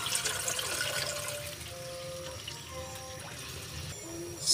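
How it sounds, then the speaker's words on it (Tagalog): Water poured into a pan of pancit bihon while cooking, a steady running, splashing wash that continues for several seconds with faint kitchen clatter in the background. "lalagyan natin ng tubig"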